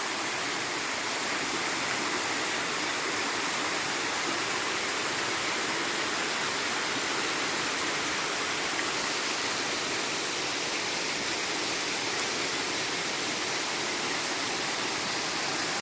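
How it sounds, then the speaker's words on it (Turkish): Kuzalan waterfall in Giresun roars as a continuous, dense broadband rush of falling water, loud, close and steady throughout, with no voices. "Ben susayım, şelale konuşsun."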